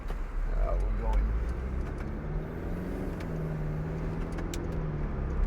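A 2012 Mercedes-Benz SLK250 CDI BlueEFFICIENCY AMG Sport, 2.1-litre diesel with 7G-Tronic Plus automatic, pulls away with a steady low engine and road drone heard from inside the cabin, moderately loud and continuous.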